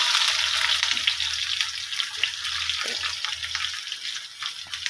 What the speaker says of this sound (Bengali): এইবার বেগুন দিচ্ছি, তেলটা গরম হয়ে গেছে পরে বেগুন দিচ্ছি।